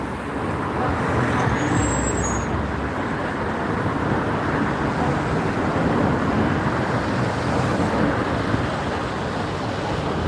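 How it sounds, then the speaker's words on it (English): Road traffic in Gloucester while gridlocked, giving a steady, broad roar of engines and tyres close by. It holds constant for the full ten seconds, and a brief high whine rises near the start. "now, of course, I am gridlocked by the traffic."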